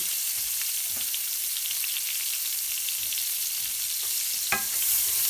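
Chopped onion sautés in bacon grease over low heat, with a steady, even sizzle and faint crackles and no talking.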